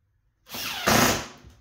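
A power drill driving a screw into a melamine cabinet, a single close whirring burst that starts abruptly and strains louder partway through before easing off, with no voices.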